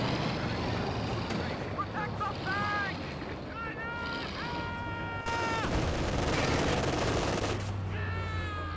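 Quad half-track trading gunfire in a Company of Heroes 2 battle, a dense, continuous rattle of rapid shots that runs loud throughout, mixed with other battlefield noise.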